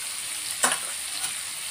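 Masala powder sizzles in a pan for fried chicken curry, a soft steady frying hiss with one sharper stirring scrape near the start and a fainter one later.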